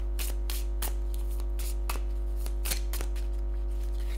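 Tarot cards from an erotic fantasy deck being shuffled and drawn: crisp papery flicks and riffles in an irregular rhythm, close up, over a steady low hum, with no talking.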